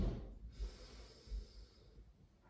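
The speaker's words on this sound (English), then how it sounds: "Now breathe in." Slow, quiet inhalation through the nose during a yoga breathing exercise, a soft steady airy rush lasting a couple of seconds with no talking.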